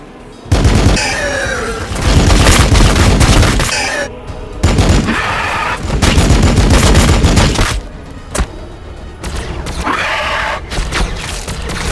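Sustained gunfire rages in the Warhammer 40,000: Battlesector game, loud bursts of automatic weapons fire in several long volleys with short pauses and heavy booming impacts between them.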